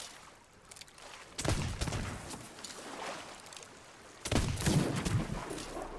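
Bursts of gunfire in a video game aimed at a shark, two loud volleys several seconds apart over a steady background wash.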